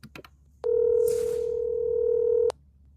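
A steady telephone dial tone sounds loud and close for about two seconds, cutting off abruptly after a couple of brief clicks at the start.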